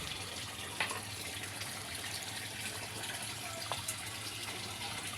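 Steady, fairly quiet rush of water from a catfish pond filter, a constant trickling flow with a couple of brief splashy clicks, no voices.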